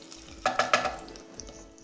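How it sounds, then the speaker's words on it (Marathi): Green cardamom, bay leaves and green chillies sautéed in hot oil with other whole spices; a quick burst of crackling sizzle and a stir scrape in the middle, then low quiet frying. "हिरवी वेलची तमालपत्र हिरव्या मिरच्या आणि याला थोडंसं परतून घ्यायचं आहे"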